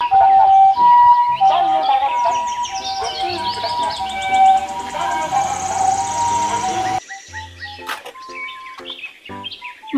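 A toy ambulance's electronic siren warbles in bright, rapidly repeating tones mixed with chirpy beeps, loud and close, then cuts to a few sparse electronic blips.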